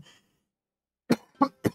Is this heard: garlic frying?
no